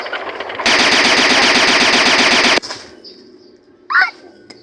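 A tank gun firing in the Chicken Gun video game produces one loud, continuous burst of rapid fire lasting about two seconds. The burst cuts off abruptly, leaving faint game sounds and a brief chirp afterward.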